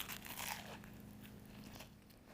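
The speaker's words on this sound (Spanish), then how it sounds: "Mi primera probada de un tazón de pan de fogata hecho con un palito para hacer tazones de pan." Someone bites into a campfire bread bowl made from salty biscuit dough baked on a bread-bowl stick, giving a quiet, close crunch and crackle at the start that fades into soft chewing.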